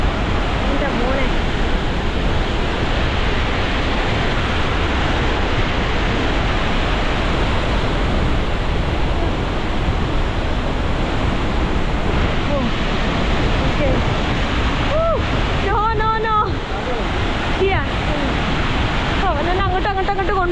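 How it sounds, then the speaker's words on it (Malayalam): Calandula waterfall in Malanje, Angola, roars as a loud continuous wash of rushing water close by, with wind buffeting the microphone and people talking over it toward the end. "നമ്മളിപ്പോൾ അടുത്തെത്തി വാട്ടർഫാളിൻ്റെ ആ കുത്തി ഒഴുകുന്ന സ്ഥലത്തെത്തിയിട്ടുണ്ട്."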